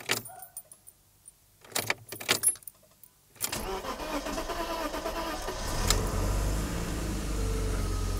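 Keys rattle and click a few times, then a BMW engine with its viscous fan clutch removed cranks and catches, settling into a steady idle.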